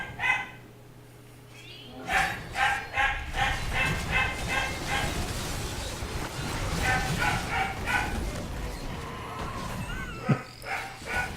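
A dog barks repeatedly in clustered bursts, some yips mixed in, fairly close and loud, over a steady background hum.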